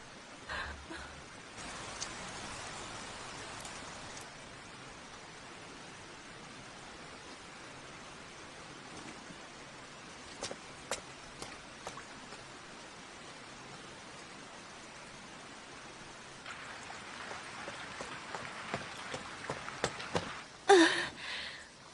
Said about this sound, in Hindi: फिर से बारिश शुरू हो गई है।